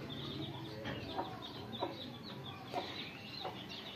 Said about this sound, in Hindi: मुर्गियाँ और मुर्गे मिट्टी के ऊपर बहुत खुश रहते हैं।